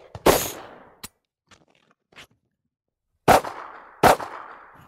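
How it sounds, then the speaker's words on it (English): A rifle gunshot rings out and decays, followed by a sharp empty click and small handling sounds, then two more loud shots close together during a rifle-to-pistol transition drill. "So I got a bang, a click, and then I transitioned to my pistol"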